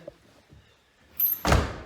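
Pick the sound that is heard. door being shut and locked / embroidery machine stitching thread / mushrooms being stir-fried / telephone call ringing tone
door being shut and locked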